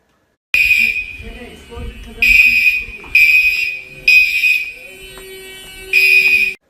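A loud, shrill fire alarm blares in repeated bursts, sounding several times with short gaps, close by and piercing.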